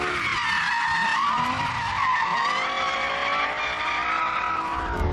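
Race car tyres squeal and skid steadily on a circuit through understeer and a snap of oversteer, a loud sustained screech with engine roar beneath, close and continuous.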